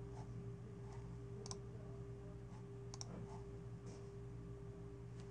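A computer mouse clicks to submit an online assignment in a Blackboard course, heard as a few faint, sharp clicks spaced a second or so apart over a steady electrical hum.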